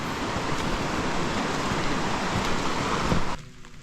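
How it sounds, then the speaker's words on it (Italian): Heavy rain pours down in the Dolomites of the Veneto mountains, a dense, steady wash of close downpour that continues unbroken for several seconds before abruptly dropping to a quieter patter near the end. "piove e che Dio la manda"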